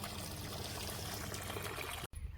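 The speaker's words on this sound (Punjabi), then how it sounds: "ਸਾਰੇ ਬੁੱਟਿਆਂ ਨੂੰ ਪਾਣੀ ਆ ਗਿਆ" Water runs onto garden plants in a continuous, even rushing stream, close and alone, broken by a brief cut near the end.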